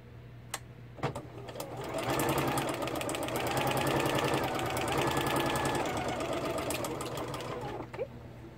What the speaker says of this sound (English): I'm going to stitch along the top edge of each of the little pull-off parts